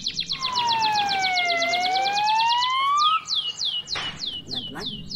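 A toy ambulance's electronic siren wails loud and close, sweeping down and back up in pitch over a rapid train of chirpy beeps that continue briefly after the wail stops.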